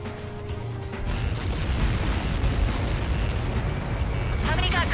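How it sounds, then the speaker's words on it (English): A missile strike detonates in the Ace Combat 7 flight combat game, erupting into a loud, sustained rumbling blast that rolls on for several seconds under heavy low-end roar, with brief voice chatter near the end. "How many got caught in that explosion?"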